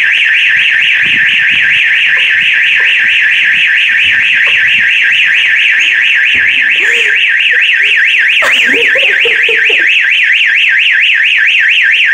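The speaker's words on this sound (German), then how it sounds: "Beste Wecker, wo versucht drauf zu hauen und der geht nicht aus." A loud electronic alarm clock rings nonstop, a piercing rapidly warbling beep that goes on the whole time while faint rustling and a brief muffled voice sit underneath it.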